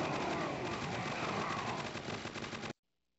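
Dense, continuous automatic gunfire from the Crossfire: Legends shooter in a hard zombie wave mode, picked up through a teammate's open microphone, loud and unbroken for nearly three seconds before cutting abruptly to silence.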